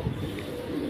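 Soft pigeon cooing from a high flyer pigeon, a low murmuring coo sustained through the short moment at moderate distance.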